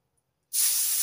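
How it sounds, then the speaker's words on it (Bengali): Fish rubbed with salt and turmeric hits hot mustard oil in a kadai, bursting into a loud, steady, close sizzle after a moment of silence. "এবার মাছগুলো ভেজে নেব"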